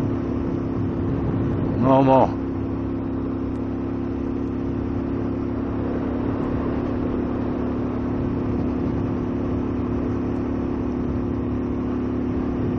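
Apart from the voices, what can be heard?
car engine accelerating through gears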